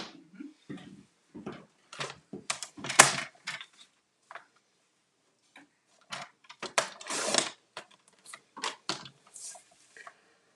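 Paper is run through an embossing folder machine, making a close series of irregular mechanical clicks and grinding bursts with short pauses between them.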